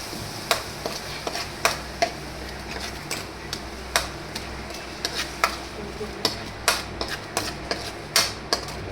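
Mustard seeds, cumin and a pinch of asafoetida crackle in hot oil as the tempering for a dry potato dish, with sharp, irregular pops and clicks over a soft steady hiss, close and fairly quiet.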